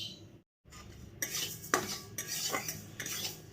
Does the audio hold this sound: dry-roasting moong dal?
yes